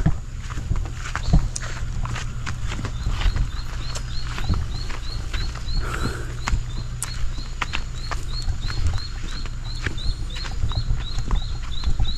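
Repeated short chirping bird calls at a steady rhythm, moderately near, over a background of rustling and tapping noises.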